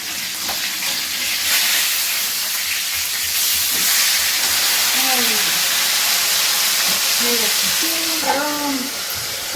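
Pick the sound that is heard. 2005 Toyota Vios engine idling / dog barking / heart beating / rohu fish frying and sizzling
rohu fish frying and sizzling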